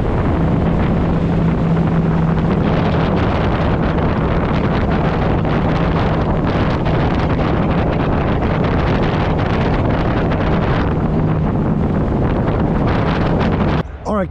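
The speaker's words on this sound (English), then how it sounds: "when the wind hits the straps, they're causing a lot of vibration here, and that is where our noise is coming from" Roof straps on a car at speed vibrate in the wind, giving a steady, loud, unbroken roar of buffeting wind with a low droning hum underneath that lasts throughout before cutting off sharply at the end.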